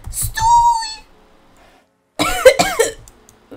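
A single person's cough bursts out twice with a breathy, throaty edge, close and fairly loud, separated by a brief quiet gap and accompanied by voiced sounds, set against faint background from the Star Stable Online horse game.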